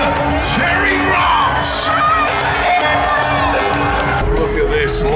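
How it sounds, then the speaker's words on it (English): An arena crowd at the UK Monster Truck Nationals cheers and yells for monster truck driver Terry Rock, a loud, sustained roar with children shouting and whoops throughout, with some talk mixed in. "Give him a cheer and a wave"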